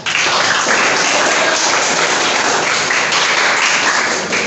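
A class of eighth-grade students applauds at the start of a civics quiz, dense continuous clapping that stays loud and even from start to finish with no talk over it.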